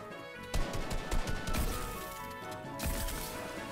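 A charge shotgun in the Fortnite video game fires a few loud, cracking blasts in close succession amid busy game noise, followed by another hit a moment later.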